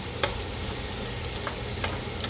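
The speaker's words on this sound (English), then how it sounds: "I'm gonna go ahead and stir this back here" Fatback and salt being stirred in a pot, a steady low sizzle with a few scattered scraping clicks of the spoon, close and fairly quiet, no voices.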